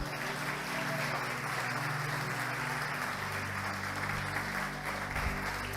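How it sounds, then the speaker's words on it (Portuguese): A church congregation applauds throughout, a dense, continuous wash of clapping that stays loud and steady over a low sustained hum, with no speech on top. "Aplauda Jesus."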